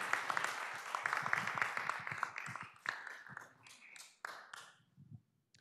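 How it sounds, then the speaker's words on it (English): A fairly quiet round of applause from a modest audience at a talk on the economics of land development, clapping that thins out gradually into a few scattered claps before stopping. "why don't we give Joe another round of applause?"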